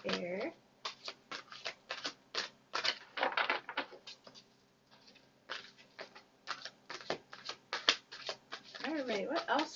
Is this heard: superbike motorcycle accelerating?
no